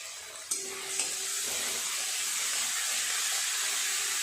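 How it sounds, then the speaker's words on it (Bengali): Chopped tomato and onion cook down with salt in a pan, giving a steady, close hiss of frying, with two light utensil taps near the start and no voices. "আর একটু ভালো করে নেড়ে চেড়ে টমেটো আর পেঁয়াজটাকে একদম নরম করে গলিয়ে নেব"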